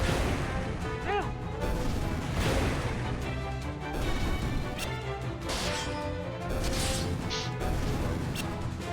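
A battle explosion in Final Fantasy II, a series of crashing bursts and impacts layered over game music for several seconds, fairly loud and dense.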